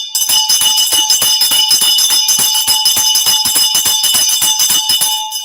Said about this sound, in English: Ring my bell for Rishi.